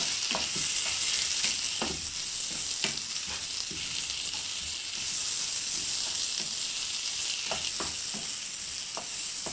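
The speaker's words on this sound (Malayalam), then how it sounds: "ഇനി നമുക്കതിലേക്ക് മുറിച്ച് വെച്ച് തക്കാളി ഇട്ട് കൊടുക്കാം അതും ഇതേപോലെ നല്ലോണം വഴറ്റിയെടുക്കുക" Chopped tomatoes sauté with onions in a pan, giving a continuous close sizzle broken by frequent clicks and scrapes of a spoon stirring, with no speech.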